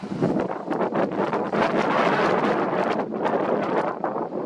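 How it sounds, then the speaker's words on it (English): Strong wind buffets the microphone in continuous gusty roars, loud and close throughout, with no voices. "Pretty windy"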